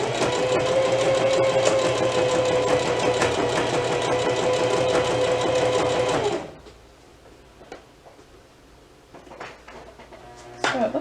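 Sewing machine zigzag stitching a picot edge on knit fabric, running loud and steady with a fast mechanical rhythm for about six seconds, then stopping, leaving faint handling sounds and soft clicks.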